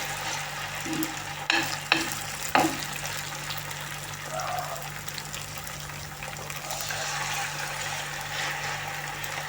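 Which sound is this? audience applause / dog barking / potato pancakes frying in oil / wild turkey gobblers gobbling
potato pancakes frying in oil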